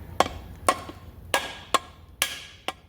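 A rubber mallet strikes a plastic part while a GE washing machine tub and transmission are being removed: six sharp, close knocks spaced about half a second apart, each quickly dying away, with no talking.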